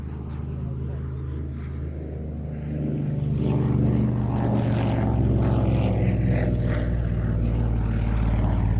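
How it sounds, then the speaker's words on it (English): A Consolidated Catalina flying boat in RAF Coningsby station flight colours passes at the Duxford Battle of Britain air show. Its piston engines throb and drone, growing louder partway through, while a commentator talks over the sound. "Catalina, of course, an iconic aircraft"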